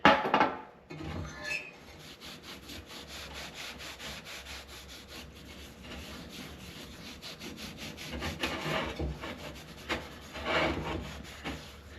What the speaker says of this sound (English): Let's wipe this thing down a little bit.